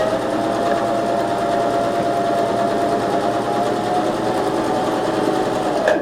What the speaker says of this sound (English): I'm still sewing on the Emerald 116.